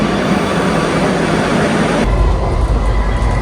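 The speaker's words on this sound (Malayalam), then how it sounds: "this is Kaloor metro station" A metro train rumbles into Kaloor metro station in Kochi, a loud, close, continuous roar with a deep low-end surge as it draws in alongside the platform.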